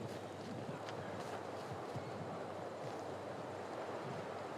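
Steady wind gusts roar across an open golf course during a state tournament round in South Dakota, a continuous broadband rush with no talk, like wind buffeting the microphone while trees shake nearby.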